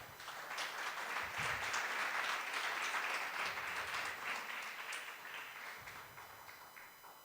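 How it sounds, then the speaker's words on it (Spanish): A church congregation claps in sustained, dense applause that lasts several seconds and fades slightly toward the end, fairly quiet and distant. "Dale un aplauso al Señor."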